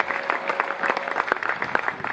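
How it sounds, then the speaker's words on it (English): Audience applause at a bluegrass concert, a steady dense patter of many hands clapping throughout, fairly close and loud with no voices over it. "You can clap for that."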